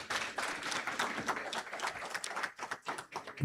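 Applause from an orientation audience at a Jamaican university campus, moderately loud clapping that thins into sparser, uneven claps toward the end.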